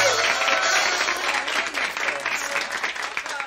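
An audience at a school event applauds to welcome a speaker, a dense, steady burst of clapping from many hands, close and loud throughout the short stretch.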